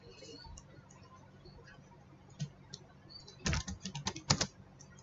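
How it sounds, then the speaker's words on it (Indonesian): Computer keyboard typing: a few faint isolated clicks, then a quick close burst of keystrokes near the end, with no speech. "Kita ketik teks."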